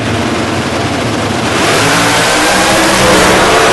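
Factory stock drag race cars, a Mopar against a Chevrolet at the NHRA U.S. Nationals, launch with a loud continuous roar of high-revving V8 engines that holds steady and builds slightly over nearly four seconds.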